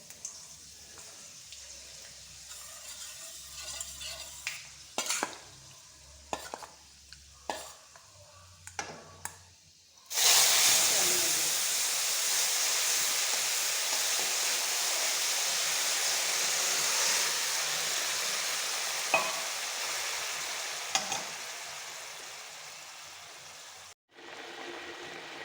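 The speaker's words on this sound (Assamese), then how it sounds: "মিঠাতেলকণ গৰম হোৱাৰ পাছত এইদৰে মিঠি গুটি কেইটামান আৰু জলকীয়া দুটা দি পেলাই" Fenugreek seeds and two chilies are dropped into hot mustard oil for an Assamese curry: a few faint clicks, then a sudden loud, steady crackling sizzle that holds for about fifteen seconds before cutting off.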